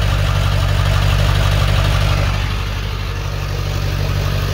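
A Ford 7.3 diesel truck idles with its muffler cut off, a loud, steady, deep rumble with a throbbing low-end pulse that holds constant throughout, close to the microphone with no talking.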